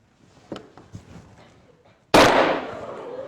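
A few faint taps and clicks, then a sudden sharp pop as hydrogen gas from a magnesium ribbon reaction ignites in a test tube, loud and close, with a fading whoosh.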